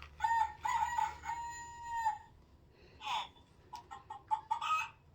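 A farm animal sound book plays a hen's recorded call, a few electronic-sounding bursts of squawking and clucking, quiet and separated by short pauses.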